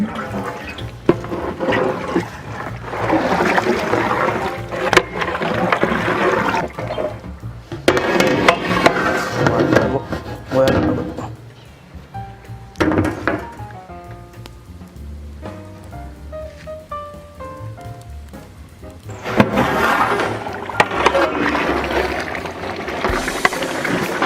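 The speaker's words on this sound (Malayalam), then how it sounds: "ഇനി നമുക്ക് കുറച്ച് വെള്ളം ഒഴിച്ച് കൊടുക്കാം" Water gushes and splashes into a mutton biryani pot in several long pours separated by quieter gaps, with the metallic clink of the vessel between them.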